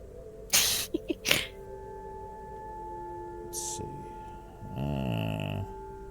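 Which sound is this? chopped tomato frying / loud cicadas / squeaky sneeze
squeaky sneeze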